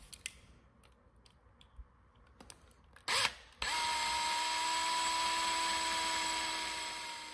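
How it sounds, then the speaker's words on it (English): Power drill boring out the single rivet on a vintage Lesney Matchbox die-cast truck, with a few small clicks and taps first, then a short burst and a loud, steady whine running to the end. "So each truck has a single rivet to drill out."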